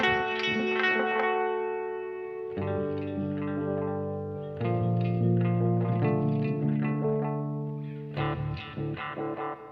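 An electric guitar plays sustained chords and single notes through a Line 6 DL4 MKII delay pedal. Repeats and washy modulation trail each strummed chord, and the tone is moderately loud with smeared decays and no voices.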